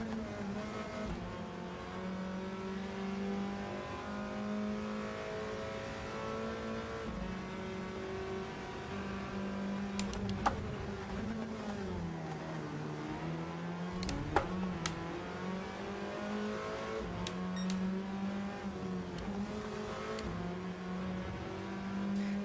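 A BMW Mini race car in a sim racing game revs steadily throughout, its engine note rising and dipping with gear changes and downshifts, with a few sharp clicks or bumps layered over the continuous, close engine drone.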